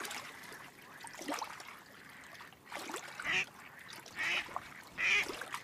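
Several ducks quack in short bursts on a pond, spaced about a second apart, over a steady low outdoor background.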